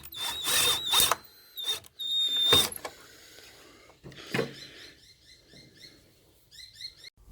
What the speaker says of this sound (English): I then drilled a hole behind the miter saw for the dust collection to come up through